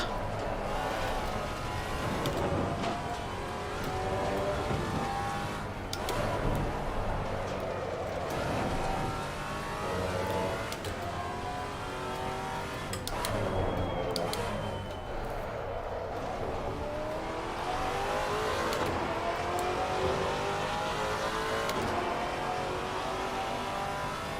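Race car engine in Assetto Corsa Competizione on a GT4 recon lap at Laguna Seca, droning steadily throughout with rising and falling revs and repeated shift changes, loud and continuous, heard from the cockpit in VR.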